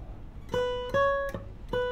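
A few sustained guitar notes ring out one after another, a short melodic phrase of about four plucked tones with clear harmonics, played close and alone without talk.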